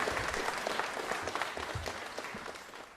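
Audience applause for a team of musicians after a fusion and Sufi music performance, a steady, fairly soft patter of clapping lasting a few seconds and fading slightly at the end.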